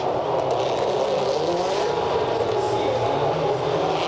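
Rally cars racing on the 2008 X-Games super special stage produce a steady, loud engine roar with broad road and crowd noise throughout, sustained rather than a single pass-by.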